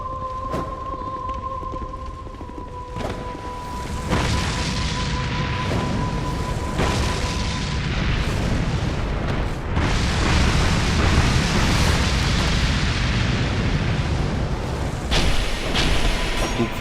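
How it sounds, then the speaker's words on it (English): Pyromancer firestorm in a video game, a barrage of heavy booming blasts and fiery bursts erupting in quick succession, loud and dense with crackling rumble throughout, no talking. "He can attack you while that firestorm is still spraying pillars from the ground"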